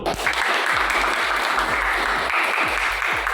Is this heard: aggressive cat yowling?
no